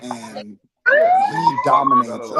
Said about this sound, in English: Finally, we got our police siren back